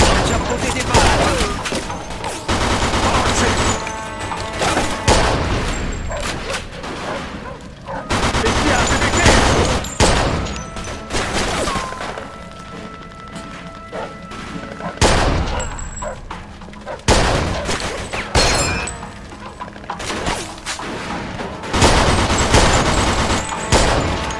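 Chaotic gunfire erupts in a Mafia 2 street shootout, with repeated loud volleys and bursts of pistol and automatic fire separated by brief lulls, mixed with shouting voices and heavy background noise throughout.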